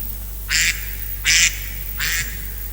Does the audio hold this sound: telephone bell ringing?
no